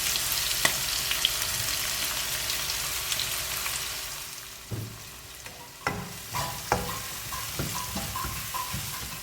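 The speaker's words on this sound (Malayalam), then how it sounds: "ഇനി ഇതിലേക്ക് നമ്മൾ അരിഞ്ഞു വെച്ച സവോളയും പച്ചമുളകും ഇട്ട് കൊടുക്കുക." Chopped onions and green chillies fry in hot oil for tomato rice, a soft sizzle under a run of sharp utensil scrapes and clinks from stirring, with no one talking.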